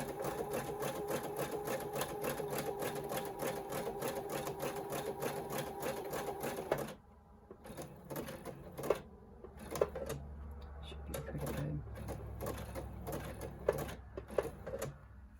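A sewing machine stitches flat wire into a fabric face mask, running in a fast steady whir of needle strokes for about seven seconds, then stopping. Scattered clicks and handling noises follow, close by, with no talking.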